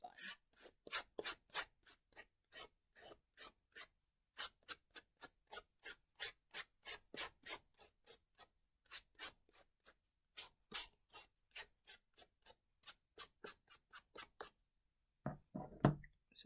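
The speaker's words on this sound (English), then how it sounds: "I'm just sanding." Rapid strokes of sandpaper rasp against a small piece, dozens of short scratchy passes in quick bursts with brief pauses, close up and clear.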